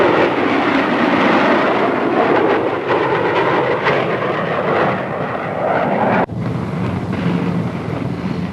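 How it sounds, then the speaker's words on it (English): A four-ship formation flyby led by a B-49 flying wing, with a B-47, a B-45 and an F-86, passes over an airfield as a loud, continuous jet roar with gusty wind noise and a brief dropout near the end. "4-ship formation coming in over the field, being led by the B-49, B-47, 45, and the F-86."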